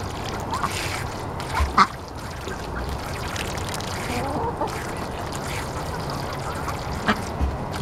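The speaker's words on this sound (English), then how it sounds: "Silly ducks." Ducks quack around a muddy spring pool in a farmyard, repeated bursts of calls close by over a steady outdoor background, with some louder squawks scattered throughout.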